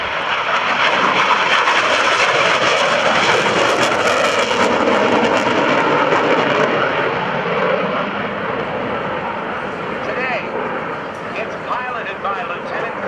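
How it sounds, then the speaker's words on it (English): An F-4 Phantom II, a remote-controlled target jet from the 82nd Aerial Target Squadron, roars steadily overhead at a military airshow, loud and continuous, then eases slightly toward the end as a public-address announcer talks over it. "the F-4 Phantom II."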